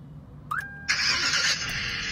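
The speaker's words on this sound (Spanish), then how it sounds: "Vamos a encender el vehículo por última vez" A car engine cranked and started remotely through a GSM GPS alarm system: a short rising electronic squeal, then the starter whirs and the engine catches into a steady idle, close and moderately loud, no talk.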